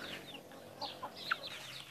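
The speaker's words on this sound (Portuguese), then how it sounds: "Que é um galo." A rooster clucks softly a few times, with brief mid-pitched calls over faint background noise; no voices.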